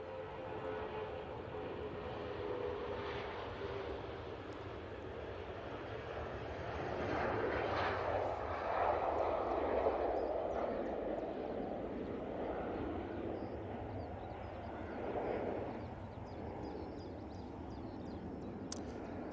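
A Cessna Citation business jet taxis at Manchester Airport, its engines a fairly faint, distant whine and rumble that swells gently midway and then settles back.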